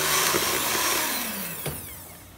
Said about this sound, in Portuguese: Tá muito mole, eu vou bater na batedeira, né?